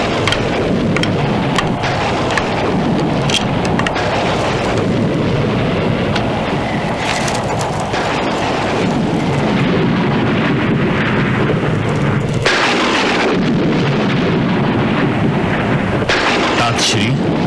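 A loud night thunderstorm pours heavy, continuous rain, with rumbling thunder swelling and cracking repeatedly throughout, and no voices.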